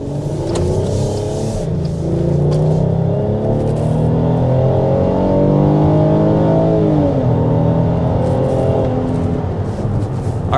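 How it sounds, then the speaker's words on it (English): A 2024 Chrysler Pacifica Pinnacle luxury minivan accelerates hard to 60 mph, its engine droning steadily and rising through gear shifts as heard from inside the cabin, loud and continuous with no talk. "that was an acceleration up to 60 miles per hour with this Chrysler Pacifica"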